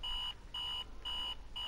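Radio alarm clock going off in the video game Virginia, a steady electronic beeping in regular pulses of about a third of a second, four in quick succession, faint and alone.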